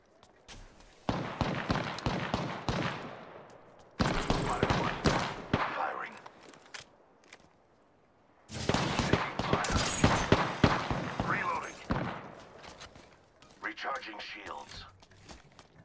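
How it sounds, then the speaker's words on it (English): Enemy gunfire in a shooter video game comes in several loud rapid bursts separated by short quiet gaps, with a voice talking between the volleys. "The enemies are shooting at me."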